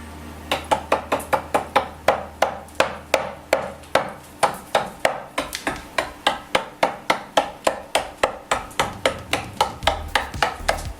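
A hammer cracking the coarse salt crust on a baked sea bream, steady sharp knocks repeating about three times a second, close and loud, with no talking.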